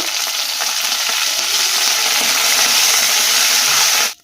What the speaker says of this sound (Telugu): ఇప్పుడు దీంట్లో కొంచెం కరివేపాకు వేసుకోవాలి